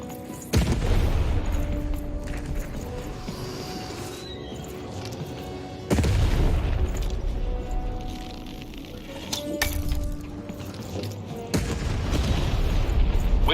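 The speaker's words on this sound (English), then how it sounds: "Shoot the button to fire the cannon." A cannon fires in the Lost In Random video game, a few heavy booms spaced several seconds apart over a dense, rumbling game soundscape.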